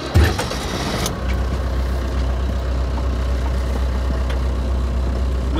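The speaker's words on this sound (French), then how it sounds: "Je vous emmène faire un petit tour en tracteur." A farm tractor's engine cranks and fires up with a loud rough burst, then settles straight into a steady, close, low rumbling run with no talking.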